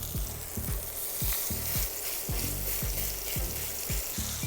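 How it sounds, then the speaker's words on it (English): Burger patties pressed down in a hot pan sizzle loudly and continuously, with repeated crackling pops and spatters close by and no voices. "And then we're gonna drop them in the pan. Push them down a bit. They want nice and crispy."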